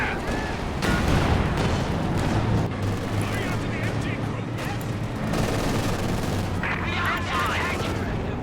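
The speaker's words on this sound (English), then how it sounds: "Calliope barrage coming in, wipes out one of the Volksgrenadier" A Calliope rocket barrage pounds down in the Company of Heroes 2 game, a dense roar of overlapping explosions and gunfire running continuously throughout, with a commentator talking over the battle noise.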